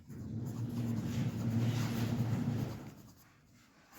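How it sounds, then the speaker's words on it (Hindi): Someone writes on a board during a Class 10 science lesson, producing quiet, scratchy strokes that swell and fade over a few seconds with no voices. "इंग्लिश में लिखेंगे रूल्स ऑफ इमेज फॉर्मेशन"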